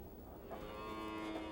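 A cow mooing as cattle are taken out to graze on a mesa in Arizona, one low drawn-out bellow that swells slightly, faint and somewhat distant, heard alone.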